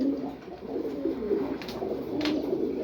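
A pair of racing pigeons coo softly and continuously at close range, with low, rolling throaty calls and a couple of brief higher flutters.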